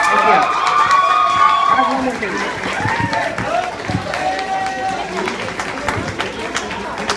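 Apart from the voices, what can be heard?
camp audience applauding Jacob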